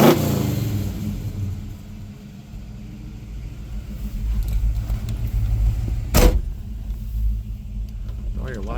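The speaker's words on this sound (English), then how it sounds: "We'll get that exhaust tone for you." A restored 1967 Chevrolet Malibu in Marina Blue revs its engine, giving a deep exhaust rumble that builds and swells over several seconds, with a sharp higher sound partway through and a voice speaking near the start.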